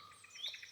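Birds chirp in a morning garden with jasmine plants, a quick run of faint, high tweets over about a second with no other sound.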